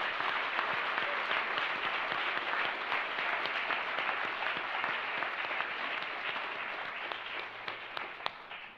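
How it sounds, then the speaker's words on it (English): An audience at the Raisina Dialogue conference applauds the organizing team with dense, sustained clapping from a large crowd. It holds even and full throughout, then tapers slightly near the end. "So please join me in applauding them for their wonderful work."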